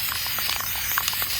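A spray can spraying paint or glitter onto a pumpkin, giving a continuous close hiss with faint crackly patter across the whole moment, with no talk.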